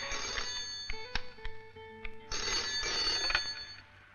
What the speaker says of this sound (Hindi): फोन है।